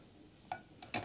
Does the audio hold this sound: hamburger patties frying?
yes